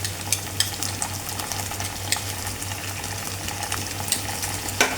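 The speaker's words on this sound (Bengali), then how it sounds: "দিয়ে কাঁচা মশলাগুলো একটু ভেজে নেব।" Ginger, garlic and onion paste sizzles and spits in hot oil, a constant close frying hiss broken by a few scraping stirs and small crackling pops.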